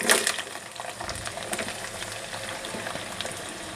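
Onions hit hot oil in a kadai over a high flame, a loud sputtering burst at first that settles into a steady crackling sizzle.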